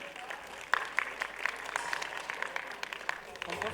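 An audience at the Global Achiever Award 2015 ceremony applauds a sports self-defense trainer honored for women's empowerment. Crisp individual claps stand out within a sustained round of moderately loud applause lasting the whole stretch.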